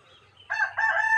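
A single rooster crow, clear and fairly close, rising into a drawn-out call over quiet background.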